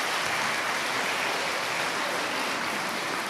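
A school audience at an elementary school assembly gives a steady, dense round of applause for a student crew, a continuous hiss of many hands clapping throughout without any talk.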